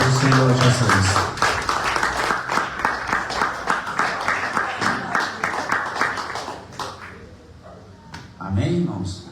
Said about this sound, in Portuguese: quem puder, as palmas para o Senhor Jesus